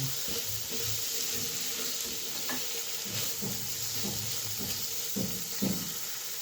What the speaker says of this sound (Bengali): অল্প পরিমাণে জল দিয়ে দেব